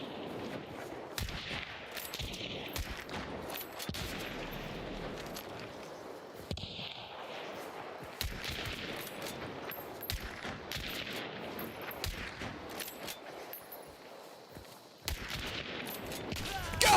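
Gunfire in the shooter Hunt: Showdown crackles throughout, a run of sharp close shots and echoing reports spread over the whole stretch, with a voice talking underneath.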